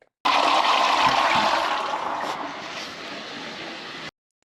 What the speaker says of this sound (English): Now we'll give cubicle 1 a flush just to keep it going.